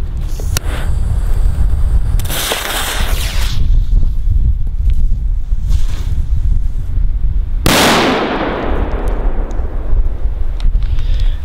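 A Dum Bum firecracker goes off outdoors with sharp crackling bursts, then one loud explosive bang near the end followed by a hissing, fading tail.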